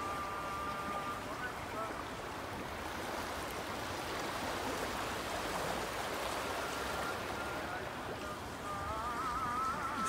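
The Buna River in Bosnia and Herzegovina flowing steadily, a soft continuous rushing wash with a faint high tone drifting in and out.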